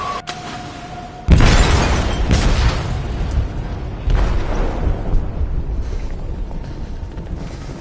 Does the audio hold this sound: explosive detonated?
yes